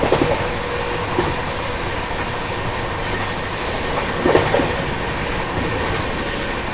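An Indian passenger train runs in parallel past a freight train hauled by a WAG9 electric locomotive, a steady loud rumble of wheels and carriages with faint rhythmic clacks over rail joints.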